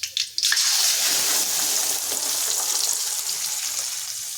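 Spices and ground masala frying in hot oil for an oily brinjal curry give off a loud, steady sizzle after a few brief clatters at the start, with no one speaking.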